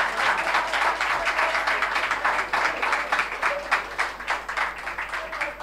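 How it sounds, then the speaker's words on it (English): An audience applauds a university sports team at a zone championship, a dense patter of clapping heard from a distance and sustained for several seconds. "Please clap for them."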